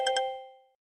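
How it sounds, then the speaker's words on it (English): A short bright two-note electronic chime rings once from an old Sony Ericsson brick phone, clear and close, then decays into silence. "Anyway, I'm getting a call on my old Sony Ericsson brick phone."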